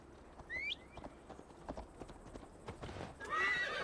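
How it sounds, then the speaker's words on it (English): Horse ride in the video game Assassin's Creed Valhalla, with rhythmic hoofbeats and a couple of clear neighs, fairly quiet, with a brief whinny near the end. "Mount up, Eivor. It's a long ride to Tamworth"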